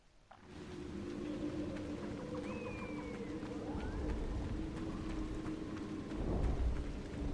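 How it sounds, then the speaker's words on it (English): Steady video game rain hisses continuously under a low rumble, with faint tonal chirps drifting through and a slight swell near the end. "It's still raining."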